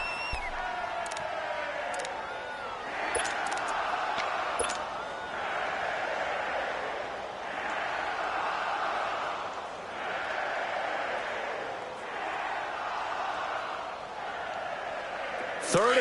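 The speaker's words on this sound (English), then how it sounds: "this crowd urging on their defense. They're up and making noise." Stadium crowd roar in a PS4 American football video game as fans rally behind their defense on third down, a steady loud wash of cheering that swells and dips under continuous commentary.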